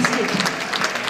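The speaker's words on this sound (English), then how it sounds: "Let's give her a big round of applause." Audience at a cancer research charity dinner dance applauds, a dense, steady burst of many hands clapping in a large room with a voice faintly underneath.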